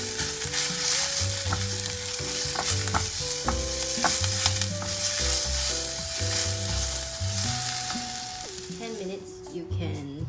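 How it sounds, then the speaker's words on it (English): Spinach roasting in a pan for a quinoa bowl gives a steady, close sizzle with occasional stirring, running under louder background music for the whole stretch. "Wait for the spinach to be roasted"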